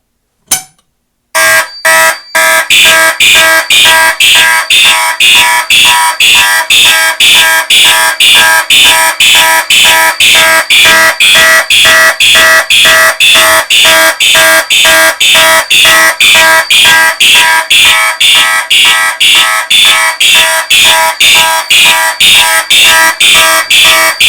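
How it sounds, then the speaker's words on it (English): Two fire alarm systems activated together from an FCI MS6 panel: after a couple of short chirps, a loud Vibratone horn sounds in a rapid, steady pulsing pattern that continues without pause. "so we can hear both systems activate at the same time"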